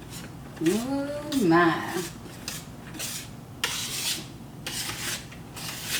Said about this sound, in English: So you can see it's just whisk that all together, scraping down the sides.